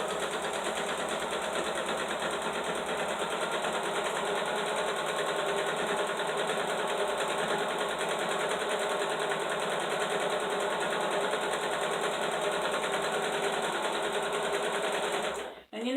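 A sewing machine stitches fabric for a draft stopper, a steady, continuous whirring hum at even speed for about fifteen seconds before stopping abruptly.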